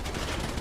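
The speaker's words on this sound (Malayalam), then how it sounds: "ഇവിടെ പോലീസ് വെടിവെച്ചടാ." Rapid gunfire from police during a video game roleplay, a dense, continuous burst of loud shots filling the short moment with no voices.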